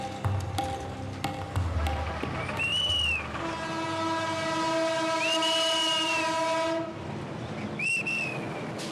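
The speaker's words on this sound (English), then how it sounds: "The train, which is transporting Safiq the Imam and his pilgrims, is making slow progress towards Dakar" A train on the journey toward Dakar rolls steadily along, with long sustained horn blasts sounding several times over the continuous rumble of the moving cars.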